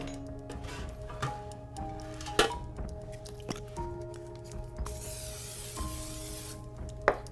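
A short hissing burst of Pam cooking spray onto a baking dish lasting about a second, close by, amid small kitchen clatter and clicks before and after.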